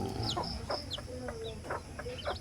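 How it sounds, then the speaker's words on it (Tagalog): Newly hatched chicks of mixed brown and black colour peep in a brooder, with short high chirps repeating close by in an irregular run over a steady low background hum. "Ang aming sisiw."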